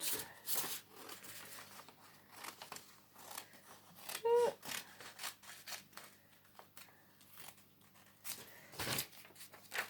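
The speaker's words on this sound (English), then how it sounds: "cut your planet out" Scissors snipping around a paper planet cutout for a children's astronaut art project, a few short close cuts and paper rustles at moderate level, with some quiet handling noise throughout.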